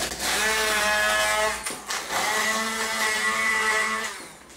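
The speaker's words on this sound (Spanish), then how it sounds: "Lo vamos a triturar." A kitchen blender runs hard as it grinds bread, garlic, vinegar and spinach cooking broth, with a brief stop in the middle before it starts up again. The whine stays loud and steady.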